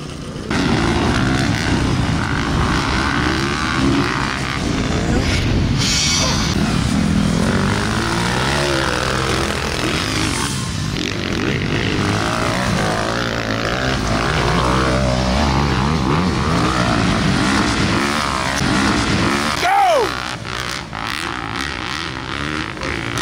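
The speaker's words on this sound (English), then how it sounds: "What kind of drone is that?" A drone flies overhead beside a dirt bike track, a steady propeller drone that stays loud and close for the whole stretch, with a brief sweeping pass near the end.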